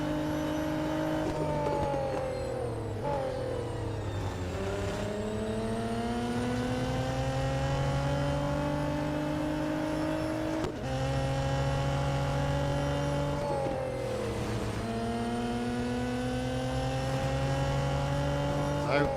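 A fully upgraded race car in Real Racing 3 drones loudly and steadily, its engine pitch climbing and dropping sharply several times as it shifts through gears, with faint talk underneath.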